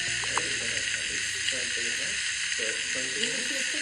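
Bacon sizzling in a pan inside the Toca Boca video game, a steady bright frying hiss running throughout, with soft speech-like voice patterns murmuring underneath.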